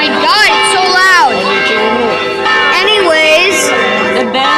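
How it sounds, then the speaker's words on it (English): Church bells ring loudly and close on the island of Procida, Italy, overlapping peals with ringing tones that sweep and decay, continuing without a break. "The bells of Procida."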